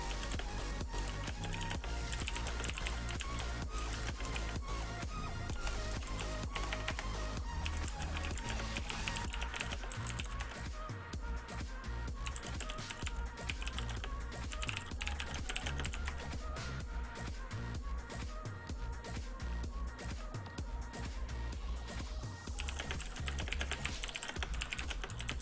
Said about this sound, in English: I'm typing to you guys in chat instead